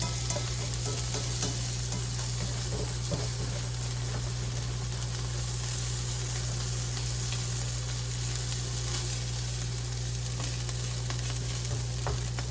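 Plant-based sausage sizzles steadily in a pan alongside peppers, a dense even crackle with a low hum underneath and occasional faint clicks of stirring, continuing without pause and with no voices.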